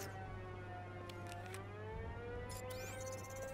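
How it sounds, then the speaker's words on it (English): Rising and falling siren wail from the video game Batman Arkham Knight, a steady sustained tone with harmonics that holds throughout, moderately loud over a low constant hum, with no talking. "That siren is so annoying."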